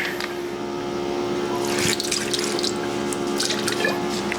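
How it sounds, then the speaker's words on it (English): Apple cider vinegar splashes as it is poured into a marinade for buffalo round steak jerky, a steady liquid pour and trickle with small drips, fairly close and continuous with no talking. "First step, I'm gonna throw a splash of this apple cider vinegar in."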